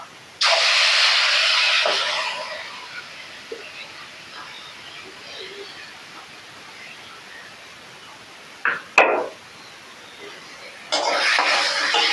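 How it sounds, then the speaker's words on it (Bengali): Boiled green peas sautéed with a fennel seed tempering in a pan, giving a loud burst of sizzling hiss at the start that fades to a faint crackle, with a few clatters and a second hiss at the end. "সেদ্ধ করা কড়াইশুটিটা মৌরি ফোড়ন দিয়েছি এবার কষিয়ে নেব"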